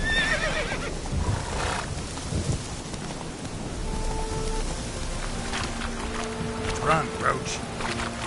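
Roach the horse in Witcher 3 whinnies loudly near the start, then hooves clop in a quick gallop amid a rain-like wash and low game music.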